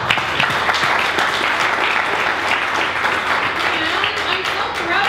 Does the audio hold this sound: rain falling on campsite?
no